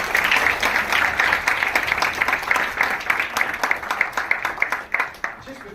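An audience applauds conference panelists at a national conference on women's leadership, with dense, steady clapping holding at a fairly loud level for several seconds before thinning out and fading at the end.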